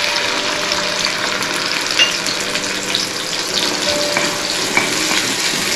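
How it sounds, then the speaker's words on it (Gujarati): Tomatoes sizzling as they drop into hot oil in a pan while cooking a green pigeon pea dish, a steady loud frying hiss that fills the whole stretch, with no talking. "એમાં આપણે ટામેટા ઉમેરી દઈએ।"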